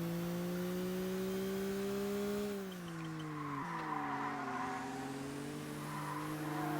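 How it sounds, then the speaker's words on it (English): A turbocharged race car in ToCA Race Driver 2 drones at high revs, then the pitch drops as the throttle is lifted and a fluttering chatter rises over the lower engine tone before the revs climb again. "The wastegate chattering there when you let off the throttle."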